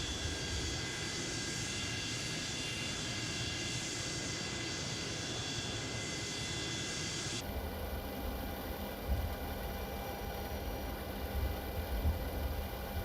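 Boeing 727-200F jet engines roaring during takeoff in Microsoft Flight Simulator, a steady broad rumble and hiss that holds constant, shifting in tone partway through as the view changes.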